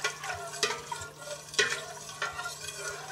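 Collard greens stirred in a pot, with quiet scraping and soft clinks from the spoon, gentle sizzling underneath and a low steady hum in the background.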